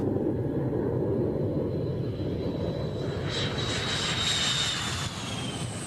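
A MiG-29 fighter jet's engines roar during takeoff, a loud continuous rumbling drone with a rising high whine that fades slightly near the end.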